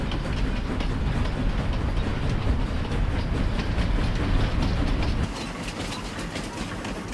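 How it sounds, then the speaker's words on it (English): A train runs steadily in Farming Simulator 25, a continuous loud rumble with rhythmic clickety-clack over the rails that drops to a quieter, lower roll near the end, with no talking. "Doesn't matter. I'm taking the train."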